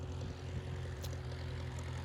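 Propeller airplane used for skydiving jumps, a steady low droning engine hum heard from a distance, fairly faint and unbroken, with no voices.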